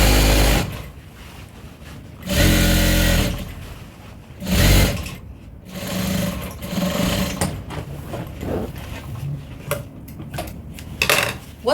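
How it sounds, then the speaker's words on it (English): A sewing machine stitches around an African print tote bag in several loud bursts separated by pauses, with handling clatter and small knocks between runs. "I'm just sewing it round."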